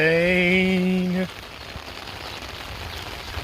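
Rain falls onto an umbrella, a steady dense patter that carries on after a brief sung note at the start.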